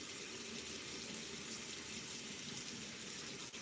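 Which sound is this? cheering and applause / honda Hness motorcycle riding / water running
water running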